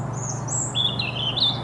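Birds chirping close by in a garden, a few bright tweets and short trills over a low steady hum, with a lawnmower droning faintly in the distance.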